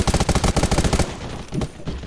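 Rapid automatic gunfire in a shooter video game, a dense loud burst of evenly spaced shots for about a second, followed by a few scattered single shots and quieter game noise.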